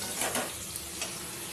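Spice paste and pabda fish sizzle in a pan while being stirred for a Bengali fish curry, a soft, steady frying hiss with faint scraping.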